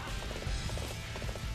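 Horse hooves galloping in the video game Dynasty Warriors 8 Xtreme Legends, a steady run of rapid thuds over a dense battle-noise bed.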